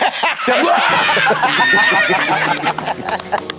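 A horse neighs loudly and close by, a long shrill whinny followed by shorter snorting, stuttering calls, with some laughter mixed in toward the end.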